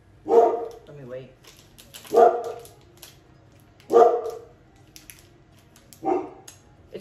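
A dog barks in four separate bursts spaced about two seconds apart, close and loud, with a short whimpering yip after the first bark and a quiet indoor background between barks.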